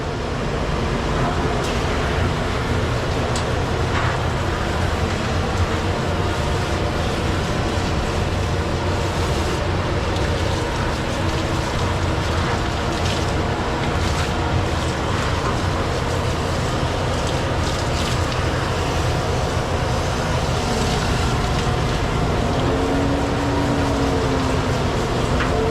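A dog grooming dryer runs at full blast in a humid grooming room, blowing a loud, constant rushing roar throughout, with some faint knocks and shifts beneath it.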